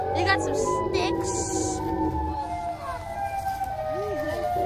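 A wailing, rising and falling Siren Head siren echoes through a snowy video game world, loud and sustained, while players talk over it.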